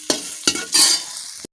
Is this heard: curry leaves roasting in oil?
yes